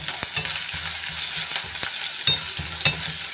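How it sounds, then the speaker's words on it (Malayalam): Crushed ginger, shallots and garlic frying in oil, a continuous close sizzle broken by rhythmic scraping strokes of a spoon against the pan, no speech. "ഈ ഉള്ളി ഒന്ന് വറപ്പിക്കുക ഈ ചതച്ച് വെച്ച ഇഞ്ചി ഉള്ളി മണ്ണ ഉള്ളി വെളുത്തുള്ളി ഇതൊന്ന്"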